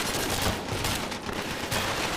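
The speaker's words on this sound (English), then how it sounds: "And those machine guns are tearing us apart!" Loud, continuous machine gun fire in the video game Killzone 3, a relentless dense rattle of shots with no pauses and no voices over it.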